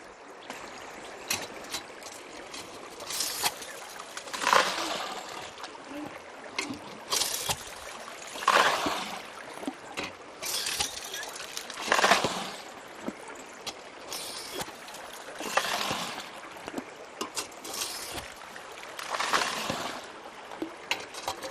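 Water gushes and splashes through a river sluice box used for gold prospecting at Cheshire Creek near Sofala, a continuous rushing flow with surging bursts and no talk.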